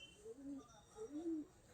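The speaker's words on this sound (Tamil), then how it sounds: "இது ஏன் புறா அப்படி சத்தம் போடுறதுனே தெரியல." A caged pigeon gives two soft, low coos in quick succession, close but faint, with quiet background noise around it.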